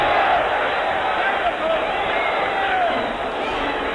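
A wrestling arena crowd roars and jeers at Fred Blassie's entrance, a dense, continuous wall of noise that sounds somewhat distant and muffled, with a voice talking over it.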